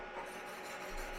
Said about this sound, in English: Now I always like to brush the tacks afterwards.